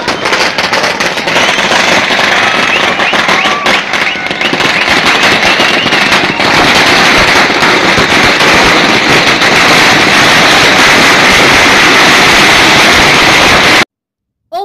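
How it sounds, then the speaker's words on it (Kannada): A very long string of firecrackers bursts continuously outside a cinema during a film release celebration, with dense, loud crackling that runs unbroken for many seconds before stopping abruptly. "ತುಂಬಾ ದೊಡ್ಡ ಸರ ಪಟಾಕಿಯನ್ನ ಇಟ್ಟು ಪಟಾಕಿ ಸಿಡಿಸಿ ದುರ್ಯೋಧನನಿಗೆ ಸ್ವಾಗತವನ್ನ ಬಯಸ್ತಾ ಇರುವಂತಹದ್ದು"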